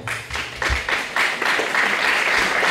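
Audience applause at a political meeting on Europe, a dense steady patter of many hands clapping in a hall that builds and holds at moderate loudness throughout.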